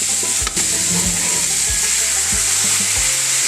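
Dried anchovies hit squash simmering in coconut milk, producing a loud, steady frying sizzle with a sharp clack at the start and a few dull knocks of a utensil against the pan.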